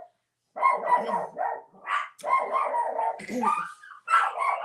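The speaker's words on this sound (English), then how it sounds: "my dogs are barking" Dogs bark repeatedly in quick, uneven bursts, fairly close and loud, with yips mixed in between.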